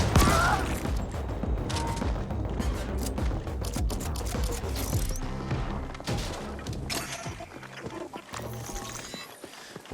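Heat gun fire in the sci-fi shooter Ascent: Cyber Heist, a dense, continuous volley of crackling, booming shots with shattering impacts, loud and close throughout, with no talking.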